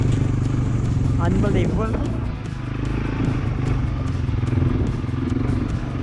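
A Honda 300 4x4 ATV engine drones loudly and steadily as it climbs a hill, with rattling and clatter from the terrain, while someone briefly speaks over it.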